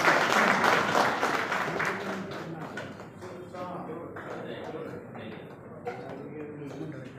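Audience applause at a felicitation ceremony for a Ganesh festival committee by the Satara district police, loud clapping from a crowd that tapers off while someone speaks over a public address system.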